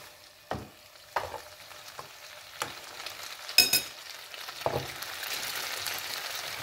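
Spaghetti tossed in a pan of hot oil left from frying zucchini for carbonara, giving a low sizzle with several sharp scraping and clattering hits spaced irregularly, close by and without voices.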